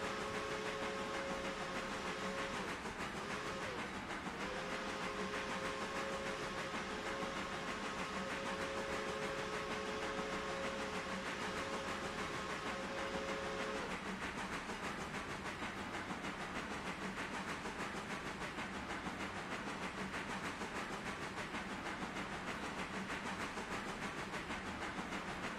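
A passenger train rolls along in the Railroader game, heard as a faint, continuous mechanical hiss and rumble with a soft sustained tone early on, steady throughout with no voices.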